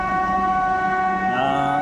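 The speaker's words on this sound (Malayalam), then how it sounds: "ഇതാ മെട്രോ ബോട്ട് പോയിക്കൊണ്ടിരിക്കുകയാണ്" A metro boat passes on the water, its loud horn or siren sounding as a steady stack of sustained tones over engine rumble, continuous throughout with a slight shift near the end.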